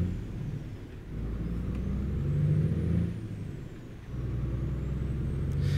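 An Iveco truck fitted with a Kriechbaum sound mod rumbles along in Euro Truck Simulator 2, a deep steady diesel drone that swells and dips as it accelerates, close and continuous with no talk.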